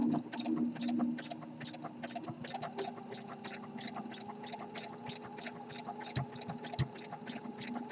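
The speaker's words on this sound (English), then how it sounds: "you're going to have to even sew a little slower than we were sewing earlier in this garment" A home sewing machine stitches an elastic waistband onto nylon boxer briefs, a fast, even run of close mechanical ticks with a low motor hum underneath and no voices.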